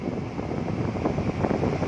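A 2002 Daewoo Lanos's air conditioner blows a steady, fairly loud rush of cold air, a constant broadband whoosh that holds through the whole moment with no speech over it.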